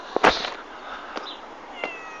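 A cat meows close by in a short, sharp cry followed by a couple of fainter mews, with no talking.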